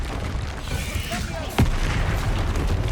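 A Confringo blasting spell explodes in Hogwarts Legacy, one sudden booming burst midway through amid ongoing combat rumble and scattered crackles, with speech in the background.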